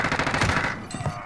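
Gunfire in Call of Duty Modern Warfare, a close, loud burst of rapid shots that fades toward the end, with a fainter crack following.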